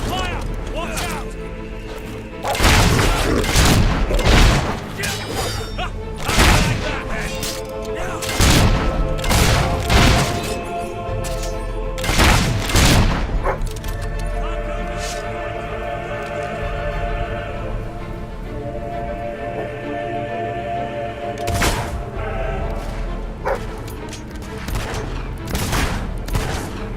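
Battle in the video game Fable 3: rapid volleys of gunshots and heavy booming blasts come in loud bursts, then thin to scattered shots, with voices shouting in between.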